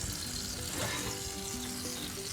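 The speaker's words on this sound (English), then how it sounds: "All right, we got this sizzling." Eggplant and vegetables fire-roasting for an ikra dip give off a continuous close sizzle and crackle, a steady dense frying hiss with no talking.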